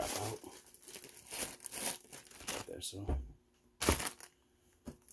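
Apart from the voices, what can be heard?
bubble wrap being pulled out of a box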